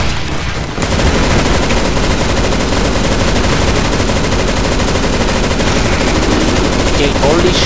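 Relentless automatic gunfire shooting zombies in CS:GO Zombies, a loud unbroken stream of rapid shots from several weapons at once, sustained for the whole stretch with no pauses.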